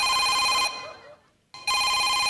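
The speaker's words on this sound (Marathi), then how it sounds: "फोन आलाय मला" A telephone rings with a bright electronic ringtone that cuts out for about a second, then resumes at full loudness.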